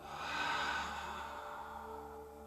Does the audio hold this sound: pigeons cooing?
no